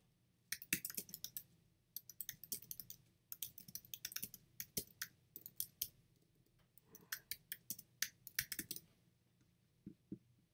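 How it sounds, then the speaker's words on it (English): Typing on a computer keyboard, with quick clusters of crisp key clicks in irregular bursts separated by short pauses, close and fairly quiet, with no one talking. "Let me type this out."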